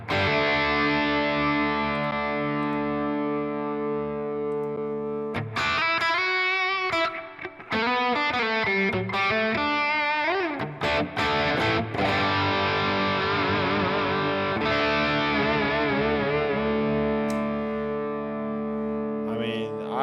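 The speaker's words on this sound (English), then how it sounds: "So this is your Mezza Boogie 2C++. Studio reverb." Electric guitar runs through a Sonicake Matribox II multi-effects unit set to a Mesa Boogie 2C++ amp model with studio reverb. Sustained distorted chords give way to quick melodic lead runs, then ringing held notes with long reverb trails.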